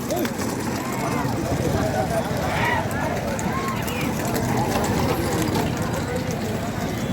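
Horses galloping in a race at a Thiruvaiyaru horse and bull run make continuous rhythmic hoofbeats under crowd hubbub and a commentator's voice.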